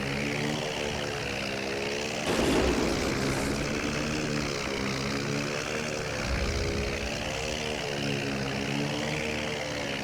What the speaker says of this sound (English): Sounds like the engines might be over revving.